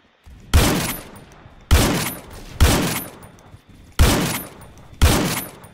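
Five loud bursts of rapid gunfire from the Phantom Forces video game ring out at roughly one-second intervals, each a sharp crack followed by a rattling decay, with brief quiet gaps between.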